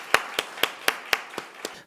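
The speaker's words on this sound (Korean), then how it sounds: "영광의 박수를 드리겠습니다" A church congregation claps together in a steady, even beat during a New Year's service, seven crisp claps in a row, moderately loud and without other sound.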